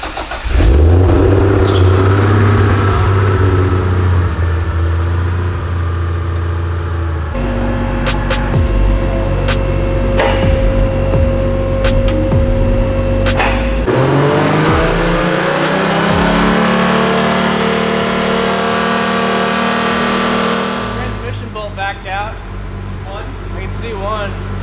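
A Mustang-type car engine free revving with the car stationary, loud and close, with the revs climbing and falling through several sustained pulls and a rough, droning idle between them.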